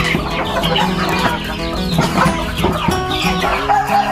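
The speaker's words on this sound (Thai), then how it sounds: "ก็จะมีไก่บ้านนะครับไก่บ้านแล้วก็เป็ด" Domestic chickens cluck and squawk busily, with ducks among them, a dense farm chorus close by with overlapping calls and no talking.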